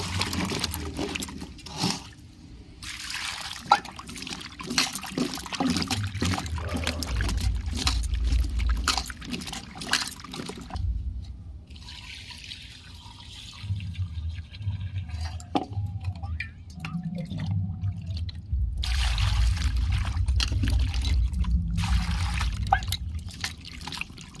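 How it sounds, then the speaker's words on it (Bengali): Peeled small potatoes are washed by hand in water, with splashing and sloshing that comes and goes. Drips and trickles sit between brief handling knocks, all close by. "ভালো করে খোসা ছাড়িয়ে নিয়েছি এবার ভালো করে ধুয়ে নেব"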